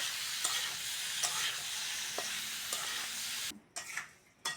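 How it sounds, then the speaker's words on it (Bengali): Amla pickle stirred in a pan with sugar melting, a steady soft sizzle with spoon scrapes every second or so, close by, before the stirring stops near the end. "এরমভাবে নেড়ে চেড়ে চিনিটা গলিয়ে নেবো"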